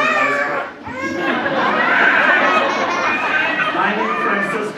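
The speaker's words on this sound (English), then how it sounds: "The sound of children crying make me feel at home." Children cry and chatter among a crowd at a citizenship ceremony, a busy, loud mix of young voices with the occasional wail from a baby.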